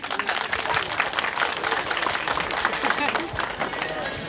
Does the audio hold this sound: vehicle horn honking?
no